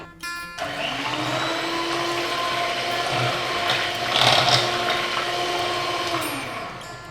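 A kitchen blender whirs steadily through a beetroot and coconut cream mixture with desiccated coconut, a loud, continuous motor whine that starts abruptly and swells briefly in the middle.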